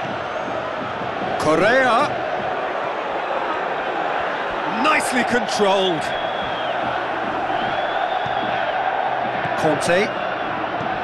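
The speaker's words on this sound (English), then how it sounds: "the crowd clearly liked what they just saw" A stadium crowd roars and cheers in the football video game PES 2021 during Atletico Madrid vs Chelsea, swelling in loud bursts under continuous match commentary.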